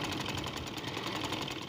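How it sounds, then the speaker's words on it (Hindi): A sewing machine stitches along the folded edge of a long sleeve cuff, a fast, even mechanical whirr with a regular rhythmic pulse, close and fairly quiet, with no talking. "ये किनारे पे हम सिलाई लगा रहे हैं"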